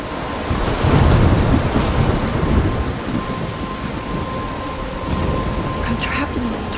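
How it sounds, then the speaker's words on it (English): A heavy thunderstorm rages in the video game Life Is Strange, with steady hard rain and a rolling rumble of thunder swelling early and then easing, loud and enveloping throughout. "I'm trapped in a storm?"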